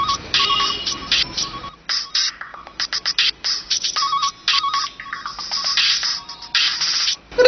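A mobile phone ringtone plays loudly and close, repeating in quick bursts of bright electronic tones with short gaps between them, with no talking over it.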